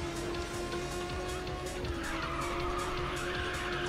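Tires squealing as a car drifts in the racing game Ridge Racer 6: a sustained high screech over a steady engine drone, loud and continuous for the whole stretch.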